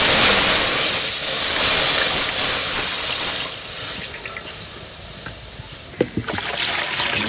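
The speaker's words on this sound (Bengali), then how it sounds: "দুধটা এখানে কড়াইতে ঢেলে দেই।" Milk pours into a wok in a village kitchen, a loud, continuous splashing gush that tapers into softer trickles and a few drips.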